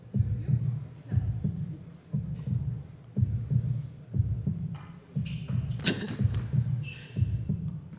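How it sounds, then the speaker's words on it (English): A pounding heartbeat sound effect plays during a professional squash match broadcast at the 2018 British Open: deep, regular double thumps about once per second, loud and steady, with faint crowd noise and a brief bright sound partway through. "Well, someone's heartbeat's really pounding."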